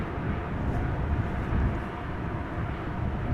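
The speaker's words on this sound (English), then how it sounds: "I still hear the reversers." Airliner thrust reversers roaring after landing at Amsterdam Schiphol Airport, a steady, broad rumbling jet roar heard from a distance, continuous and fairly loud throughout.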